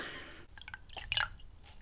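Water drips from a wet bronzer makeup brush, a few faint, close, soft splats and squishy drops against a quiet background.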